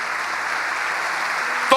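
A church congregation applauds steadily, a dense wash of clapping that holds at an even level before a voice breaks in at the end.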